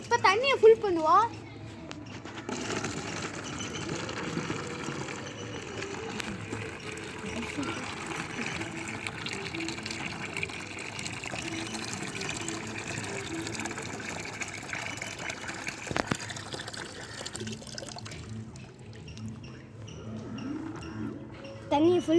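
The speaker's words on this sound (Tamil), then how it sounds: "இப்போ தண்ணியை ஃபுல் பண்ணுவோம்." Water pours steadily into a guppy fish tank, a continuous rushing gush lasting most of the stretch, with brief voices at the start and end.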